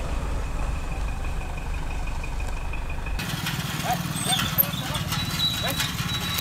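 Hooves of a bullock cart clip-clop along a rural village road in India, steady and fairly close, heard over constant outdoor background noise and a voice talking throughout.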